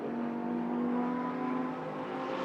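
A GT race car engine at Watkins Glen, held wide open during a GT America race, drones as a steady, sustained roar with no voices.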